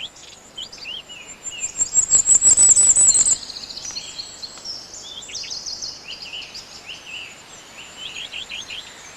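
Hawfinch calls ring out in an ancient forest, a rapid burst of sharp, high ticking notes followed by scattered thin chirps that fade to quieter, intermittent calls.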